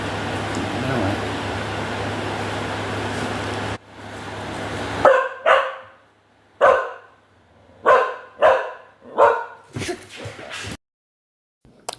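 After a few seconds of steady noise, a dog barks close and loud about six times in sharp, evenly spaced bursts, with quiet gaps between them.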